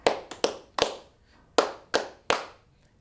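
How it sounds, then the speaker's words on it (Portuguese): Sharp, close hand claps in groups of three keeping time for a berimbau during a capoeira lesson, with a few crisp claps spaced unevenly and quiet gaps between them. "A gente vai fazer 3 palmas"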